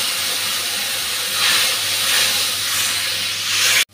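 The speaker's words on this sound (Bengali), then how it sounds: "এখন গুলে রাখা মশলাটা দিয়ে দিচ্ছি।" Ground spice paste hits hot oil in a pan with a loud, broad, continuous sizzle, swelling and easing in waves over several seconds before cutting off abruptly.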